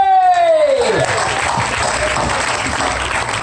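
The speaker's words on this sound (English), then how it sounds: "Big round of applause for Anjula Devi!" An audience at a food festival in Hampton Court applauds as a chef is welcomed onstage, a steady dense wash of clapping that starts under the last fading tones of a voice and carries on loudly to the end.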